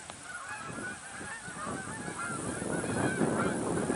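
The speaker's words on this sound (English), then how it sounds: "I've never seen the geese that high up." A flock of geese flying very high overhead honks continuously, many overlapping calls mixed with other birds, growing slightly louder over the few seconds.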